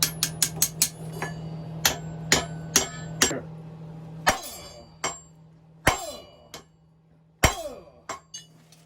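Sharp hammer strikes on hot iron while forging a new socket for an Acadian spade, about a dozen ringing metallic blows in an uneven rhythm, close and loud with a resonant clang after each hit.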